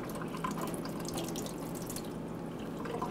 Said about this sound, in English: Wash the apples and then core them.